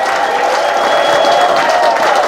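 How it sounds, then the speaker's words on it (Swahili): Studio audience applause with cheering and ululation at a Christian TV broadcast, a loud dense wash of clapping with a high trilling tone, continuous throughout. "Tukaribisha mtazamaji kwa makofi,"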